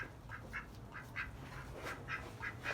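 Several ducks quack in short repeated bursts, fairly close and moderately loud over steady low background noise, with no talking.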